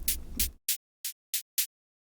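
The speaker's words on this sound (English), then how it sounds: "So this is just a little white noise layer." A short white noise layer in drum and break processing: a hiss burst over a low thump, then four crisp, evenly spaced bursts of bright noise with dead silence between.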